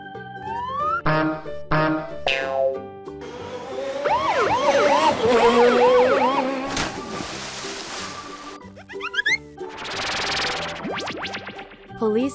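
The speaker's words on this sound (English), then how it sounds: "Police car." A police car siren in a children's cartoon-style soundtrack, with wailing, rising and falling tones that sweep repeatedly amid other playful sound effects, fairly loud and upfront.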